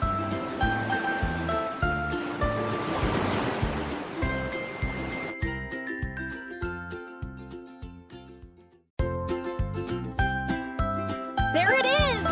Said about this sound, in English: A wave is moving water in the ocean.